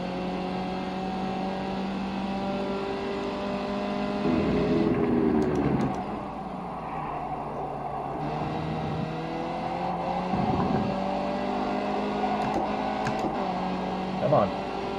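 Race car engine in the iRacing sim at Twin Ring Motegi GP circuit, droning steadily with rising and falling pitch through gear shifts, a few brief sharp ticks over it, heard under the loud engine without clear talk.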